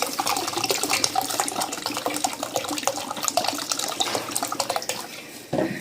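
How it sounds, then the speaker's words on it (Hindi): Fresh cold tap water poured into a pot for Kashmiri pink tea, a steady splashing, gurgling stream running continuously and close up with no talking. "अब इसमें नॉर्मल पानी जो होता है, ताज़ा आम नलके का पानी, वो ऐड कर दूँगी।"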